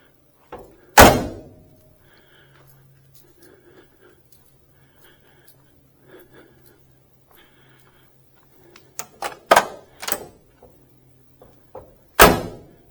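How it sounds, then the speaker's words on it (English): Doors of a 1967 Camaro RS SS swing closed with solid, tight thunks: one loud slam early, quiet clicks and rustling between, then a cluster of sharp latching bangs and a final hard slam near the end. "Again, the doors just snap shut."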